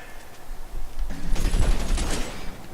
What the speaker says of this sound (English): Oh, he's got a Tommy gun.